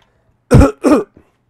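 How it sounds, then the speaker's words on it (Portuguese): A close, loud throat clearing made of two quick rough bursts, followed by a faint trailing sound, then quiet. "Pigarro"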